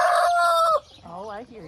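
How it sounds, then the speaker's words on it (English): Homestead chickens and a rooster call up close: a loud, sustained crow is followed by a wavering, lower squawk from a hen, alone with no talking. "Happy chickens."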